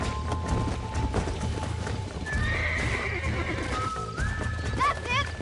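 A horse whinnies in the Western video game Red Dead Redemption, the neigh rising over steady galloping hoofbeats clip-clopping throughout a short stretch.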